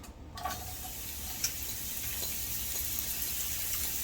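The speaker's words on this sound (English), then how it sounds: "So, we're going in now with our mushrooms." Mushrooms sizzling in butter in a hot pan for steak Diane: a steady, hissing fry holds throughout, with a few small clinks and stirring noises on top and no talking.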